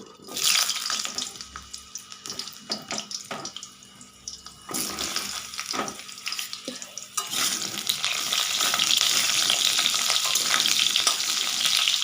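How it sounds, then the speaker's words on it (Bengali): Potato pieces and soybean chunks fry in hot oil, a steady close sizzle with bursts of clattering stirring and some splashy, watery noise, swelling to a dense, loud hiss in the latter half; no one speaks. "এই তেলের মধ্যে দিয়ে দেবো আলু, আর সয়াবিনের আলুগুলো আমি ভেজে নেব"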